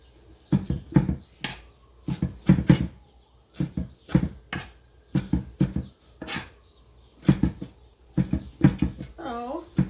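A knife chops parsley and onions on a cutting board for a kabob salad topping, giving loud, close, crisp chops in quick clusters of two or three, with a brief vocal sound at the end.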